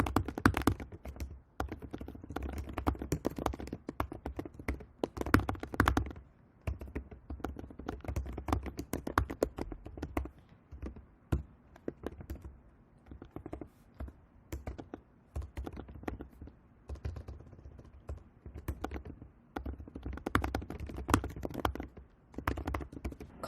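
Steady typing on a computer keyboard while formatting sentences in an APA-style research paper: quick, close, uneven runs of light key taps with brief pauses, no voices.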